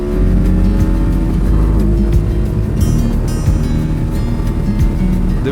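Motorcycles open their throttles and accelerate down a concrete stretch, a loud, dense engine roar with rising harmonic tones and steady wind rush throughout, close and continuous.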